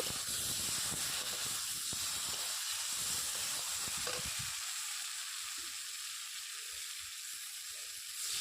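Rui fish and tomato sizzle in a hot pan while being stirred, a loud continuous frying hiss with scraping knocks from the spatula in the first half before the stirring eases and the sizzle carries on alone.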